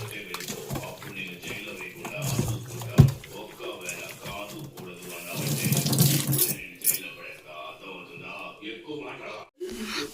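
Running tap water splashes over raw chicken being washed with turmeric in a home kitchen sink, with handling and rinsing noises and people talking over it.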